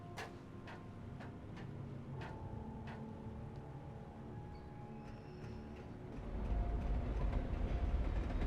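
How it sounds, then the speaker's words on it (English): A train rumbles past in the video game Alan Wake, a steady low roll with faint ticking that swells louder near the end. "Everything's fine. It's just the train."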